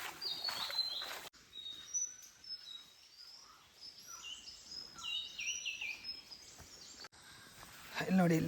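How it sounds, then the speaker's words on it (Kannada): Small forest birds chirp and call repeatedly during a walk through jungle on the Narasimha Parvatha trek near Agumbe. The calls are mid-distance over quiet woodland ambience, with a faint voice at times. "ಹಕ್ಕಿಗಳ ಸೌಂಡ್ ಕೇಳಿ ಫ್ರೆಂಡ್ಸ್."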